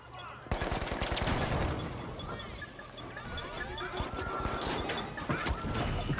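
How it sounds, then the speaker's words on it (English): Gunfire in a match of The Finals: sharp, rapid shot bursts and cracks, fairly quiet overall, with crashing impacts and mechanical clatter mixed in. "I'm just shooting."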